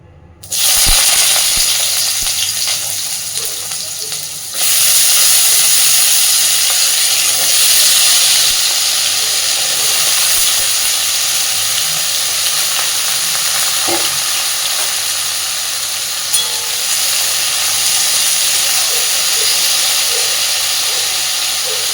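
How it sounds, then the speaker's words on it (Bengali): Cut potato and eggplant pieces hit hot oil in a pan for a fish-fat chorchori, setting off a loud, steady sizzle with a sharp onset that holds throughout, occasional stirring clinks, and no voices. "তেল খুব সুন্দর করে গরম হয়ে গেছে। এবার দিয়ে দিচ্ছি কেটে রাখা আলু আর বেগুন।"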